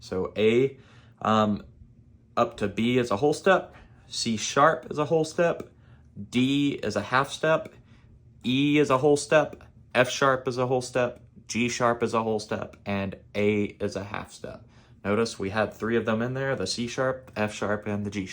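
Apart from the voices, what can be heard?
No distinct noise like a dog, phone or traffic.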